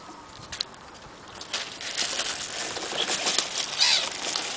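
Seagulls being fed outdoors in Poole flap and flutter their wings in bursts, with faint calls and scuffling over steady outdoor background noise, fairly quiet and with no talk.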